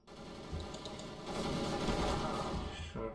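Rapid automatic gunfire in Counter-Strike: Global Offensive, a dense burst of shots rattling steadily for about two and a half seconds before cutting off.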